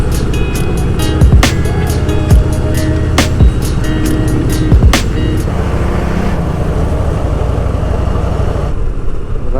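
A motorcycle ride at night along an undivided forest highway, with loud constant engine and wind roar, several sharp clicks or knocks over the first half, and the level easing slightly toward the end.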